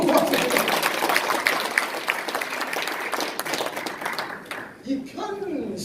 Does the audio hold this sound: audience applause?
yes